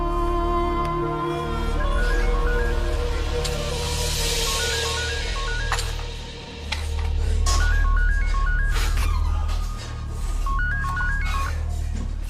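Phone keypad tones beep in quick stepped sequences, several separate bursts of dialing over a steady droning background.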